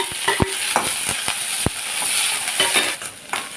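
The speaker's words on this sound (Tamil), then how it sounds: "கடுகு போடுறேன் பொரியட்டும் கடுகு பொரியுது" Hot oil sizzles steadily while mustard seeds pop and crackle in sharp, irregular bursts close by, with no speech.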